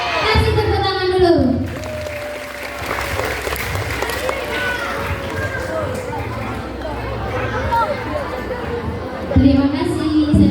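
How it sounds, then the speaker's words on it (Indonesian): Applause from a school audience at an Isra Miraj drama performance, a steady crowd clatter with chatter and a voice speaking over it, swelling again near the end. "Kasih tepuk tangan dulu"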